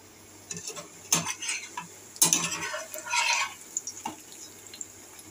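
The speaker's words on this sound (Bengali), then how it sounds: "দেখো বসিয়ে দিয়েছি গিমা শাকের বড়া" Gima saag fritters frying in a pan, with a faint sizzle under clattering, scraping strokes of a utensil against the pan in a few uneven bursts, close by, with no talking.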